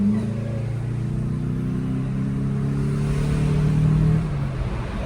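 An automatic car with an aftermarket intake cruising at about 60 km/h on a city street, giving a steady low engine drone and rumble with a slight swell in revs before settling.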